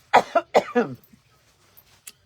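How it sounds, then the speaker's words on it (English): Two pairs of quick, harsh coughs, close and fairly loud, then a quiet breath and a faint click in near silence. "Excuse me, I have to cough."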